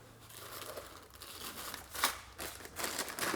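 Hands rummaging through a bag of organized bolts in a home garage workshop during a Volvo 940 V8 swap build, giving steady crinkling plastic rustle with small rattles and a louder crunch near the middle, no talk.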